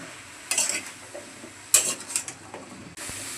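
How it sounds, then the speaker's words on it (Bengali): Spices and vegetables are stirred in a pan for a village-style vegetarian dish, with several short scraping clatters of a spoon against the pan over a soft, low sizzle. "মশলাগুলো সবজির সাথে কষিয়ে নিচ্ছি।"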